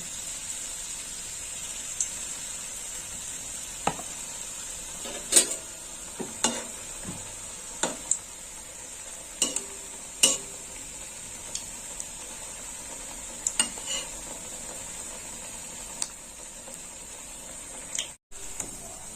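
Malpoa batter frying in a pan gives a steady, fairly quiet sizzle throughout, with scattered clicks and taps of a small spoon or spatula against the pan.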